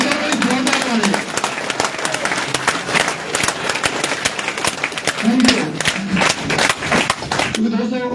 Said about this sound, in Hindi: ये बात सभी टेक्निकल टीम के लिए जोरदार ताली हो जाए साहब।